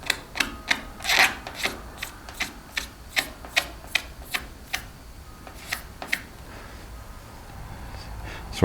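Short rhythmic rasping rubs on car clearcoat as a dirt nib is worked down with an abrasive, about twenty strokes in steady repetition, close and fairly quiet, with no talking.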